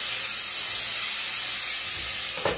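Sausage frying in a pan gives a steady, close sizzling hiss that runs unbroken throughout, with a brief clatter near the end.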